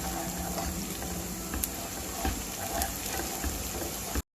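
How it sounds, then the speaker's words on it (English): Potato curry with onions and curry leaves sizzles in a pan while it is stirred, making a steady frying hiss with occasional soft clinks of the spoon before the sound cuts off. "So I've added the rest of the ingredients and I'm going to stir this well."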